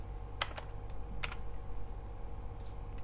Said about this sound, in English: type in the name of your custom sweep